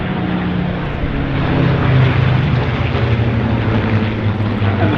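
A P-40 warbird propeller plane flies past at an airshow, a loud, steady engine drone and roar that swells slightly midway and holds throughout.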